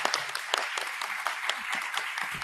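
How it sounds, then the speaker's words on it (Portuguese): Audience applause breaking out at a public event in a library hall, steady dense clapping from many hands sustained throughout, fairly near and moderately loud. "ao comandante José Marcos Filho, uma salva de palmas, por favor."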